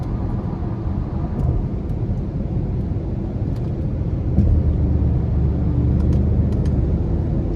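A 2023 Genesis G80 Sport Prestige with a 2.5-litre turbo four-cylinder accelerates with a steady, loud low engine drone from inside the cabin, rising in intensity partway through, with faint clicks from the paddle shifters.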